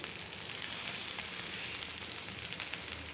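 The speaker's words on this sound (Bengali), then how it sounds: "এখন এগুলো বেসন দিয়ে চুবিয়ে চুবিয়ে ভাজবো" Shrimp and dried loitta fish dipped in gram flour batter fry in hot oil, a dense, steady sizzle heard close up with no voices.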